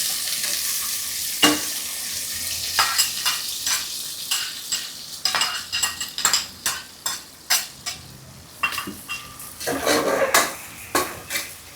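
Onions and spices fry in hot oil for a vegetable biryani, a continuous sizzle broken by a metal spoon repeatedly scraping and clanking against the pan in uneven bursts as the mixture is stirred, loud and close.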